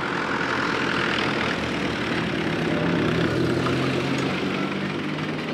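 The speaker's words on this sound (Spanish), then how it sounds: "¿Se imaginan que ese tractor tenga que entrar por aquí y me tenga que quitar?" A tractor engine drones loud and steady in a rural Romanian setting, a continuous low rumbling hum that fills the whole stretch without breaks, with no voices.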